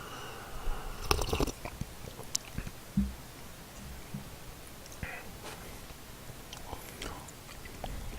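Close, quiet mouth sounds of someone eating Ottogi Cup Noodle udon-flavor instant cup noodles, with a few crisp bites and soft chewing scattered over low background hiss, plus faint murmured breath.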